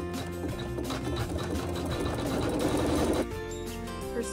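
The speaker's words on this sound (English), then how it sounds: "it's going to sew some quilting in this area" A sewing machine stitching quilting runs in a fast, steady mechanical chatter for about three seconds, then drops to a quieter hum with a light click near the end.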